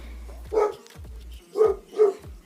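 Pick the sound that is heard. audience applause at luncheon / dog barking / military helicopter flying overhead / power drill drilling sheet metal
dog barking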